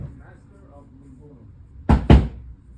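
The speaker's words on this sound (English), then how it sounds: "So I just had a knock on my door" Knocking on a door at home, two loud, close thuds in quick succession near the end, following a quiet stretch of faint low voice-like murmur.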